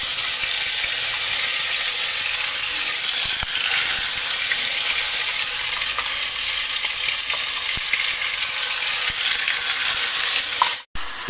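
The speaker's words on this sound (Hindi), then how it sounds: "इसको हल्का सा आपको फ्राई कर लेना है" Masala for egg curry fries in hot oil with a continuous close sizzle and faint stirring scrapes for about eleven seconds, then cuts off briefly near the end, with no speech.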